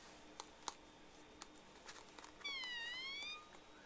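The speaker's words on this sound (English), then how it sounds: "You can hear the kitten meow." A single kitten lets out a thin, high, drawn-out meow near the end, preceded by faint taps and rustles in an otherwise quiet room.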